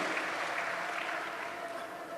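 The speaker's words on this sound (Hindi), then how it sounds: "जोरदार तालियों से उनका अभिनंदन करें" A crowd at a religious gathering at the Maha Kumbh claps steadily, a dense wash of applause that holds for a couple of seconds and begins to taper at the end.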